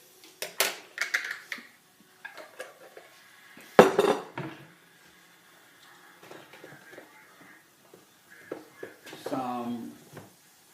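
Jarred minced garlic is spooned into a pot, with scattered metallic clinks, scrapes and taps of a spoon against glass and metal, close and fairly quiet, amid pauses and a voice speaking near the end.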